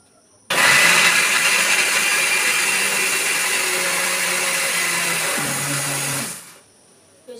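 A kitchen mixer grinder switches on and runs loudly for about six seconds, blending ingredients with water into a paste for homemade ice cream, then winds down and stops.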